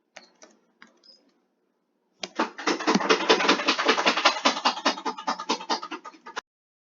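A pet scratches herself right next to the microphone, making a rapid, rhythmic, scraping rattle that runs for a few seconds after a handful of faint ticks, fairly loud and close.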